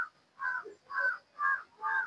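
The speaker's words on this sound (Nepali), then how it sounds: "हेर्नु त कागको पनि खिच्छौँ क्या हो" A crow caws four times in steady succession, harsh repeated calls spaced about half a second apart, fairly close and clear with no talk, heard from a house in Kathmandu.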